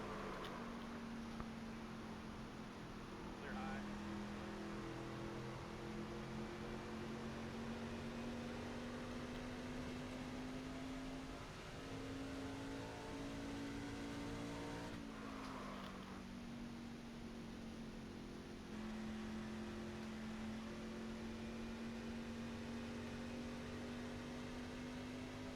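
Race truck engine in the NASCAR 25 game at Phoenix, a steady droning hum that holds one pitch and wavers slightly, mid-level and continuous for the full length with no talking.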